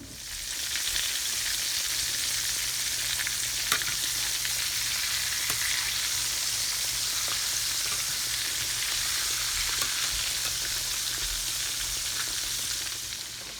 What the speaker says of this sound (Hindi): एक तरफ हमारा चिकन फ्राई हो रहा है।